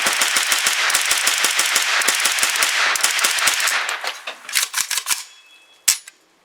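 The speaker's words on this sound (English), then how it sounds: "KR9 with a full mag of Federal aluminum. Few bump fires." Rapid bursts of gunfire from a Kalashnikov-USA KR9 shooting a full magazine of Federal aluminum-case ammunition, bump-fired, a dense run of sharp close cracks trailing into looser shots and a final single report.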